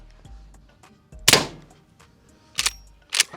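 A 280 grain subsonic round fired at a bank truck, a sharp loud impact crack followed by two more hard bursts, with faint clicks and thumps between.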